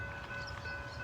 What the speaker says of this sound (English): And there's another train starting to come.